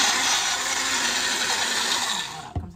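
Blender whirs loudly and steadily as it blends a smoothie, a dense high motor roar that cuts off abruptly near the end with a clunk.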